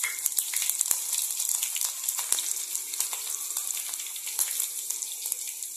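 Cumin seeds and green chillies sizzle in hot oil for dhokla tempering, a close, crackling hiss dotted with sharp pops and spits throughout.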